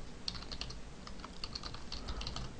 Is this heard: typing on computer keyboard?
yes